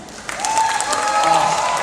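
Fans applauding at a live comedy stage show: a brief, fairly close burst of clapping from a crowd, with a voice sounding over it.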